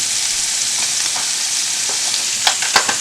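Thin scallops frying in a hot pan, a loud steady hiss of sizzling oil throughout, with a few brief clicks and taps near the end.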